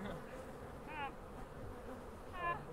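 Honey bees buzz during beekeeping with a steady, faint hum of many insects, and a few louder wingbeats rise briefly as individual bees pass close by.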